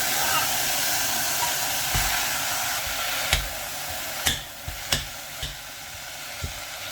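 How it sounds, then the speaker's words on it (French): Onion frying in butter in a pan with tuna poured in, a steady loud sizzle and hiss throughout, broken by a few soft clinks and stirring knocks. "Je vais faire revenir l'oignon avec du beurre."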